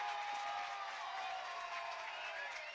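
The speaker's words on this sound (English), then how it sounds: "And a sarcastic cheer from the Boaz fans." Football fans at a Boaz high school game raising a sarcastic cheer, a broad sustained crowd roar with scattered clapping that fills the stands and holds steady throughout.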